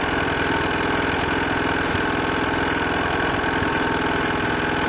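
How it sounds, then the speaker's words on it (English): A Honda CT110 Trail motorcycle engine idles slightly high, a steady, close, evenly pulsing putter that holds constant for the whole stretch. "I've got the bike running at a slightly high idle"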